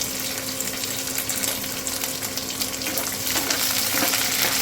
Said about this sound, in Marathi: कढीपत्ता आणि मिरची पण आपल्याला थोड्या वेळ परतू द्यायची आहे ते बघा लसूण गोल्डन ब्राऊन व्हायला लागलेला आहे